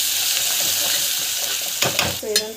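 Turmeric, asafoetida and rock salt sautéing in a pan: a loud, steady sizzle, then a few spoon scrapes and knocks toward the end, with no voices.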